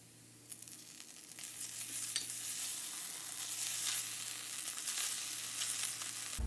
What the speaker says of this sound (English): add 1/3 cup of cream cheese and melt it